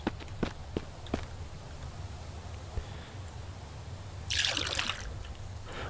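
Water collected into a bucket in the Mist Survival video game: a few footsteps and clicks, then a brief gushing splash of water lasting under a second, with no talking.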